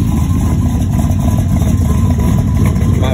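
A Chevy Silverado pickup with an aftermarket cam sits idling, its engine giving a loud, steady, close rumble with a faint lumpy pulse and no voices over it.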